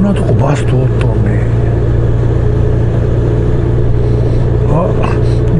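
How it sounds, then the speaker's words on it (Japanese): A bus drives along a street near Toshodaiji temple, its engine rumbling loud and steady close by while people talk over it. "あ、こんなとこバス通っとんね。"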